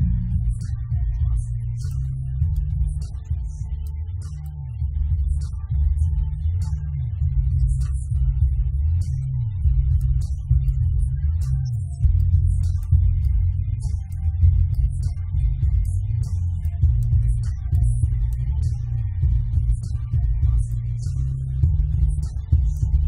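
A music mix with only the low frequencies of the mid channel soloed, leaving a boomy kick drum and bass line thumping in steady rhythm, with thin, faint high ticks above.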